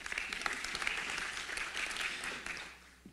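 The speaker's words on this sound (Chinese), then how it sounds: "我们掌声欢迎洪所长" Crowd at an auto semiconductor industry forum breaks into sustained applause welcoming the final keynote speaker, many hands clapping steadily before easing off slightly at the end.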